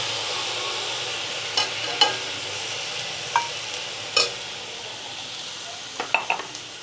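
Tomatoes go into hot oil with coriander powder for a spicy fish curry, giving a low steady sizzle broken by a few sharp spoon scrapes and taps against the pan, with no voices.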